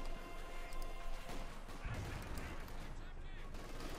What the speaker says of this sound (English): We got artillery called down on the cuff point